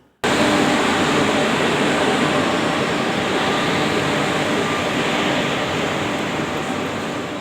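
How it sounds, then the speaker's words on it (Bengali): Steady, loud rumbling roar of the Azimganj–Howrah Ganadevata Express arriving at a station, with broadband rattle and hum, continuous throughout after a brief quiet start. "আমাদের আজিমগঞ্জ হাওড়া গণদেবতা এক্সপ্রেস চলে এসেছে।"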